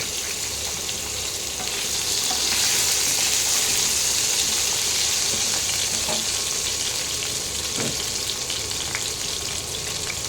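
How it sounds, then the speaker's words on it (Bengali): Chunky potato pieces fry in hot oil with a steady, close, loud sizzling hiss and occasional light stirring clicks, continuous throughout with no talking. "এবার এই আলুগুলোকে একটু লাল লাল করে ভেজে নিতে হবে।"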